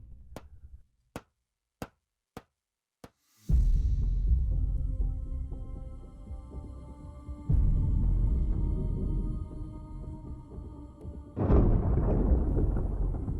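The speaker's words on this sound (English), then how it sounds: "Thunder rumbles low and unnatural tension fills the air." Low thunder rolls across primeval plains at dusk, a heavy sustained rumble that swells and fades in waves after a few sharp, isolated knocks at the start, with no voices.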